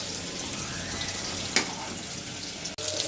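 Water runs steadily at a tap while soaked clothes are washed, a close, even hiss with a brief splash partway through and a short break near the end.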